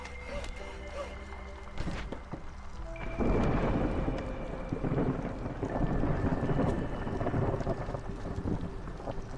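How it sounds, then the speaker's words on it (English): A thunderstorm rumbles in the video game Against the Storm, with a deep, broad roar of wind and rain that swells louder partway through and stays dense to the end. "Should be fine during the storm."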